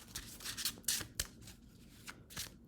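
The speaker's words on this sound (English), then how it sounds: "Shuffle this deck a little bit more." An Osho Zen tarot deck is shuffled by hand close up, giving quiet, irregular bursts of card rubbing and riffling.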